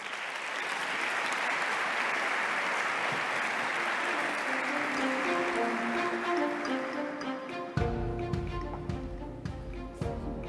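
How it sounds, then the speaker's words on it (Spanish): Warm audience applause greets a speaker at a corporate social responsibility conference, a steady dense clapping that carries on for several seconds before music enters and plays beneath the fading clapping. "Un aplauso."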